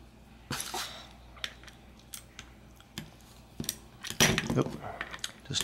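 Small metal parts of a Shimano Alivio trigger shifter clink and scrape as a bolt with a little brass washer is tightened, sparse sharp clicks followed by a louder rattling grind near the end, close up with no talking.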